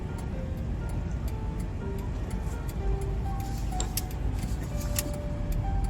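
A car with a broken speedometer is driven at about 1000 RPM, heard from inside as a steady low engine drone with faint scattered ticking and no clear talk.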